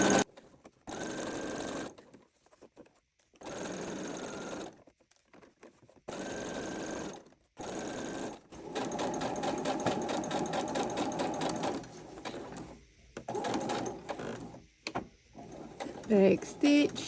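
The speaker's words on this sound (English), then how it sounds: "I'm actually going to pivot again and just sew a little bit more just because it's a corner" A sewing machine stitching a heart-shaped pillow runs in several close bursts of rapid whirring, stopping between runs for pivoting at corners and back stitching, with a person talking during the pauses.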